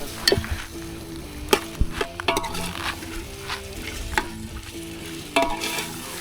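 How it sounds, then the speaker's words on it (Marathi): Chicken frying in a spiced masala tempering, a steady close sizzle with repeated scraping and knocking of a spatula stirring the pan, loud and busy throughout, no voices. "मस्त असं चिकन आता टाकलंय, फोडणी दिली"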